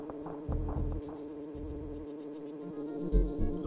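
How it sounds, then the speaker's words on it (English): A fast bee buzzes in Donkey Kong Country 3, its thin insect drone running steadily across the clip, blended with repeating game music and bouncy low thumps. "And a really fast bee, so we need to get rid of him."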